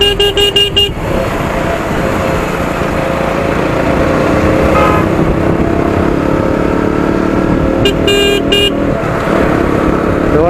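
A KTM Duke 125 BS6 motorcycle rides through road traffic with a steady, close engine drone and broadband wind and road noise throughout, while short car horn toots sound at the start and again near the end.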